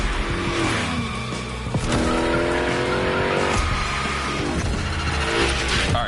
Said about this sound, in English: Let's see how you handled your first slides with the Hoonicorn.